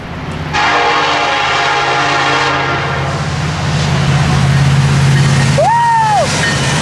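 An eastbound freight train sounds its horn in a long, loud, sustained blast over the deep rumble of the passing train, with a brief rising-falling whoop near the end.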